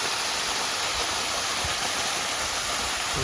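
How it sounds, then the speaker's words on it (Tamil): Namma Falls in the Kolli Hills pours down in a dense, continuous roar of rushing water, loud and close with no break. "இதுதான் வந்துட்டு நம்ம அருவி மலையிலேருந்து வர தண்ணி அப்படியே கீழே போவாயிடும்"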